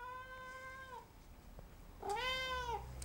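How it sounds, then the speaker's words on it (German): A male cat gives two clear, drawn-out meows separated by a short pause, close and fairly quiet indoors with no talk. "Mein Kater."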